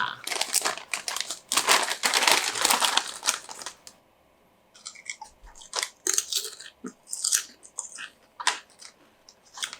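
Loud crinkling of a Haitai Honey Butter Chips bag at first, then a pause, followed by close crunching and chewing bites interspersed with brief speech.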